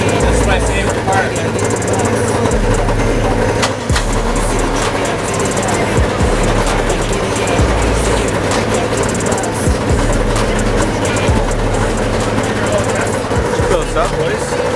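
Two 1997 Cougar snowmobiles run outdoors after starting, their engines a loud, steady droning rumble that continues throughout with small revving swells, while voices are mixed in.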